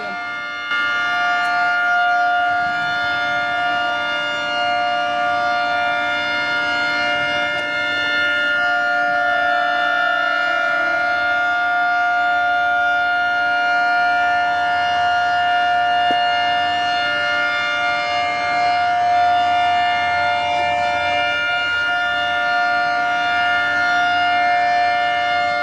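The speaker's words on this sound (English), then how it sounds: "because of a fire department siren going off in the background" A fire department siren wails steadily in the background for the whole stretch, a sustained droning tone that holds fairly loud and even, with faint ambient noise beneath and no talking.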